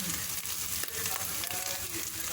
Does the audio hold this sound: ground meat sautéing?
yes